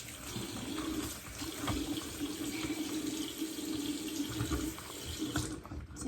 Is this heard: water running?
yes